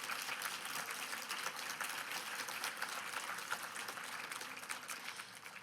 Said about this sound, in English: So another big round of applause for a great panel.